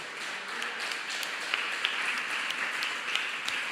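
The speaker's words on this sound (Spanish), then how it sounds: "Denle un aplauso fuerte al Rey de Reyes y Señor de Señores." A church congregation applauds during a sermon, a steady wash of many hands clapping at moderate distance with a few sharper claps standing out.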